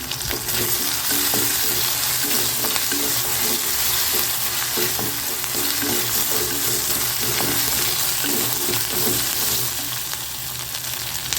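Paneer gravy ingredients sauté in a pan for a spicy paneer masala, with a steady loud sizzle and frying hiss running throughout and scraping stirring strokes scattered on top, no voices.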